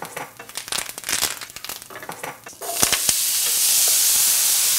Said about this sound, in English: That's the sizzle we want